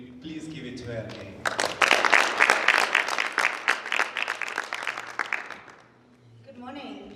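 After a brief voice, a youth leadership conference audience breaks into a louder renewed round of applause for speaker Leann, with dense clapping for about four seconds that stops before speech resumes.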